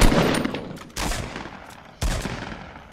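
Three heavy gunshots in the video game Fortnite Battle Royale, likely from a legendary sniper rifle, each a loud close blast about one second apart with a long fading tail.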